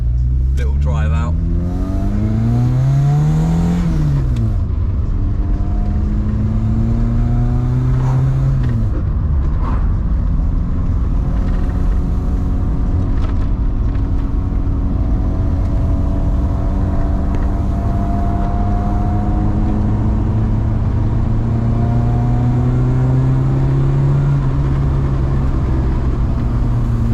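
A little red Ford Fiesta drives country roads, its engine droning loudly and continuously as it repeatedly revs up and shifts through the gears, heard from close by with a bit of talk underneath.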